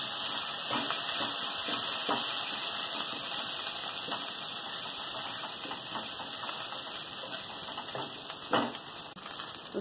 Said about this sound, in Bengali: তেল গরম হয়ে গেছে, রসুন দিয়ে দেবো।